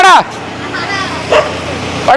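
A dog on a street barks in a few short sharp bursts, close and loud, separated by quiet gaps with faint background noise.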